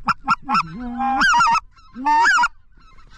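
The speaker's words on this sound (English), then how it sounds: "Shoot that goose." A goose honks loudly and close by during a waterfowl hunt, giving a series of short honks followed by two longer drawn-out calls, with no talk over them.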